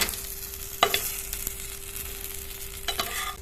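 A puffed rice snack frying in oil in a pan after being flipped, a soft continuous sizzle with a few sharp scraping clicks from the spatula.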